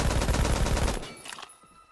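Rapid automatic hip-fire gunshots in the Roblox shooter Phantom Forces, a dense loud burst of rounds lasting about a second, then a few trailing mechanical clicks and fading echo.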